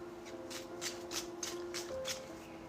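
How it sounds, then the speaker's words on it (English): Oracle cards being shuffled back into a deck during a tarot-style reading, a steady run of soft papery riffling bursts repeating about every third of a second, close and quiet with a faint steady hum underneath. "we have these 5 oracle cards to shuffle back into the deck"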